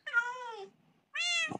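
A Minecraft cat meows twice in the video game, two clear close drawn-out mews separated by a short pause, with no talking.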